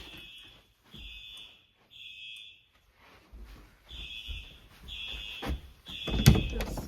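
A mini fire alarm system with a Simplex 4903/9215 30-candela strobe sounds in repeated bursts of a shrill, buzzy tone, separated by short gaps, with faint handling and background noise between pulses and a louder clatter near the end.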